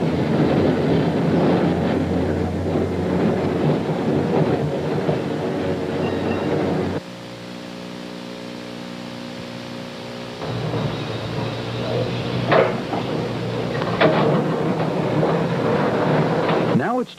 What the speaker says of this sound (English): we see a city car departing for downtown Waukegan